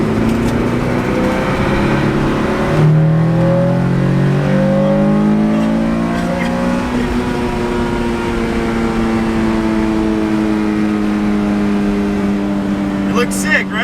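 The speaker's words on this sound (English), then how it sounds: "Let's take it for a test drive." An Acura Integra on a test drive, its engine droning and rising in pitch through the gears at steady close range, with people talking over the engine noise.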